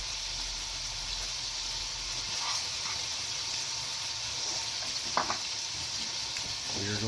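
Carrots and onions sizzle in bacon fat in a small pot, a steady close frying hiss with a few light clinks of a utensil near the end.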